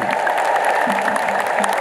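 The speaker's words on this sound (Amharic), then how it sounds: "ወደ ሀገረ ስብከታቸው ስለተመለሱልን እግዚአብሔርን እልል ብለን ሁላችን እናመስግነው" A large crowd at a church welcome for a returning bishop in Bahir Dar, Ethiopia, fills the air with a steady, dense roar of cheering, high ululation and applause. The sound stays loud and continuous throughout.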